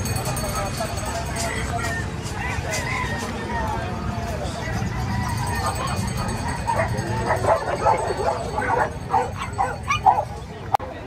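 Golden retriever puppies, all female, bark and yip repeatedly at a busy pet market in Bocaue, with sharp yaps growing louder toward the end over steady crowd chatter and passing traffic.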